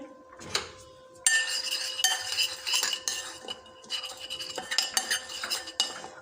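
A spoon stirs a fish marinade of chili powder, ajwain, salt, turmeric and lemon juice in a bowl, with steady close scraping and repeated metallic clinks against the bowl for several seconds and no talking.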